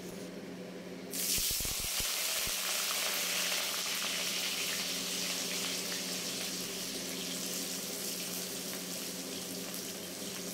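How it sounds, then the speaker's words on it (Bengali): Whole cinnamon, cloves and cardamom hit hot oil in a pan for a Bengali chicken curry and burst into a sudden steady sizzle that softens slightly as it continues, fairly close, with a few faint knocks early on and no talking. "আর এই গরম তেলের মধ্যে কিছু গোটা গরম মশলা ফোড়নে দিলাম, যেমন ওই যে দারচিনি, লবঙ্গ, এলাচ, এগুলো দিয়ে দিলাম"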